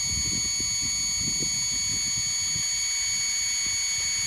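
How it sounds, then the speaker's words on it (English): A 5900 kV brushless motor in an HBX 16890A RC car spins wide open at full throttle, giving a constant, piercing, high-pitched whine with a rough rumble underneath, steady and close throughout. "It's certainly not going to solve the overheating problem because this is such a fast spinning motor"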